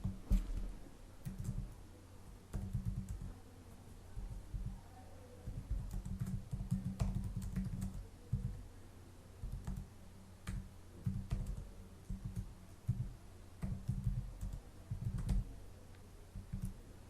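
Typing on a computer keyboard while entering text into a report, bursts of quick, close clicking keystrokes separated by short pauses, with no talking.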